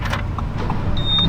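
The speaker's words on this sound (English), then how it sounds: "Driving an R8 down through the south of France." An Audi R8 V10 drives up canyon roads in the south of France, its engine a loud, steady low drone heard from inside the car with a thin whine riding above it.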